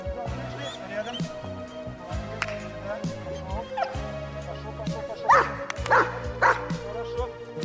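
At a dog training ground on a shooting range, a dog gives several yips and whimpering barks in quick clusters partway through, heard under steady background noise and a person speaking.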